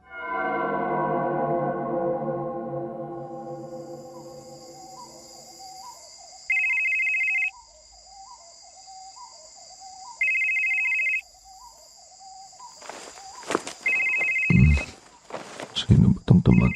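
A telephone ringtone sounds in an early-morning house, a repeating electronic trill in three bursts, loud and close, with a soft melody before it and a voice answering at the end.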